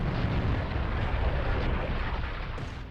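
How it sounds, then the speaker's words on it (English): A big anime explosion as Naruto and Sasuke clash: one loud, sustained roaring blast that fills the whole clip and fades slightly at the end. "And now they clash, causing this big explosion"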